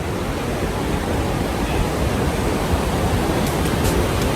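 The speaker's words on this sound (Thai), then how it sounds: "ได้ยินเสียงน้ำไหลไหมคะ" Flowing water of the James River, a steady broadband rush like a stream or small falls, loud and continuous throughout with no talking.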